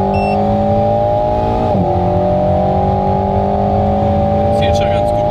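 A Renault Alpine A110 in sport mode accelerates hard on the autobahn. The engine drones loud and close in rising tones, with a brief dip at a gear change before it pulls on. A voice talks over it near the end.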